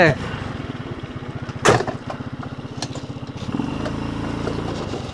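A homemade Formula 1 style race car switched on and moving, its small engine chugging in a fast steady pulse close by, rising briefly and then settling into a smoother drone, with a voice talking over it.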